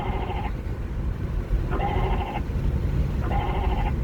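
Goats bleat in three separate calls spaced evenly a second or so apart, each a wavering, nasal cry held about half a second, heard over a steady low rumble of background noise.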